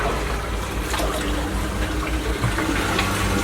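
Dirty liquid draining out of a DE separator bag from a pool filter, a continuous close splashing trickle of water with no voices.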